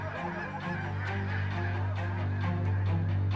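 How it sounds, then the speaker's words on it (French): A large flock of snow geese calls over the tidal bay at Cap Tourmente, Quebec, in spring: dense, continuous honking and clamour, loud and near, with no talking. "Les oies sont de retour dans la baie du Cap Tourmente."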